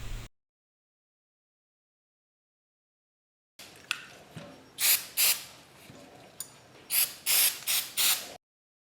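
Polishing work on Allis Chalmers 310 tractor carburetor parts during restoration: after a silent stretch, a series of short, close, hissing and scrubbing bursts, alone with no talk.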